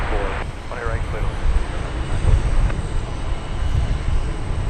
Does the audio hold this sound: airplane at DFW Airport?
yes